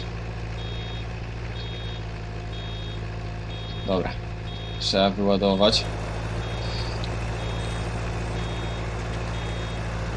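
A truck on a farm with an idling engine hum, faint regular reversing beeps sounding in the distance throughout, while someone speaks briefly in the middle.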